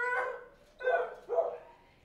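Dogs in a row of animal shelter kennels bark, giving three echoing barks with a distant, reverberant quality and no talking.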